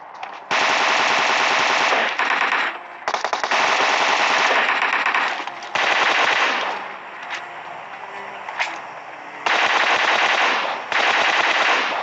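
Automatic gunfire in PUBG, with long bursts of rapid shots broken by short pauses, loud and close throughout.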